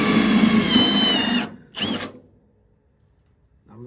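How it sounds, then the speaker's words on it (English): A power drill bores a hole for a hood pin, whining loudly and closely at a high pitch before cutting off abruptly. A short second burst follows, then quiet, then faint mechanical rustling. "Then we go to drill and then it goes straight in."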